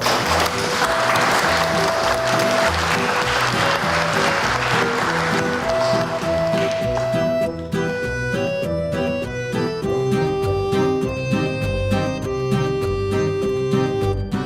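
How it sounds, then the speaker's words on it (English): Wedding guests applaud a newly married couple at a traveller wedding, clapping strong at first, then fading under swelling music that takes over by the second half. "I think they deserve a round of applause then."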